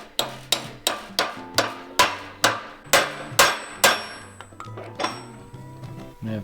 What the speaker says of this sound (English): I need to- Hammer